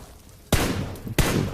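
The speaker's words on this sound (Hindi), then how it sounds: "ये ऐसे गोली गोली चला रहे।" Gunfire in the mobile battle-royale game BGMI: two loud, abrupt bursts of shooting, each lasting about half a second and separated by a short pause, with no talk over them.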